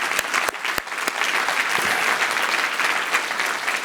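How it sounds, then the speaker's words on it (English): Conference audience at a philanthropy closing plenary applauding the interpreters; a few sharp individual claps open into sustained, full-room applause that holds steady throughout, without speech. "can we have a huge round of applause to the interpreters as well"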